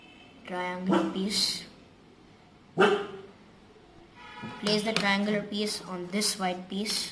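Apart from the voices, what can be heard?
dog barking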